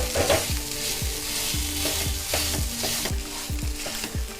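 Grated pumpkin sizzles in ghee in a pan, a steady crackling fry broken by repeated scraping strokes of a stirring spoon.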